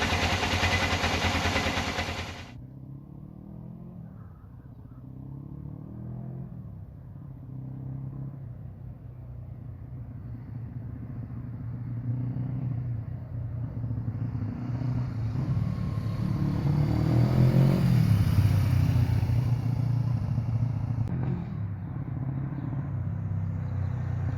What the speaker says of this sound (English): Sounds like it's running on 2 cylinders again.